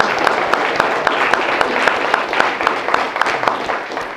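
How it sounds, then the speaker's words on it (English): An audience claps for a student astronomical society at an astronomy lecture, a steady, dense round of applause with sharp individual claps throughout, fairly loud and unbroken. "round of applause for them, please"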